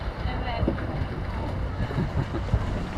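Strong wind buffets the microphone in a constant roar aboard a boat near a beach, with water sloshing and faint voices underneath.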